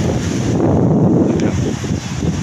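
Strong sea wind buffets the microphone on Phla beach in Ban Chang, Rayong, a loud, constant roar with low gusty rumble and no talking.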